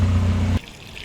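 Moonshine pours into a car's fuel tank in a steady gurgling stream for about half a second, then stops abruptly, leaving quiet drips and faint trickling.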